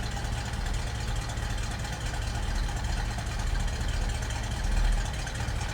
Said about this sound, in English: A little rumble coming out of that 302.